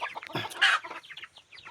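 Chickens cluck in short, close bursts, one sharper squawk standing out, with softer clucks trailing after.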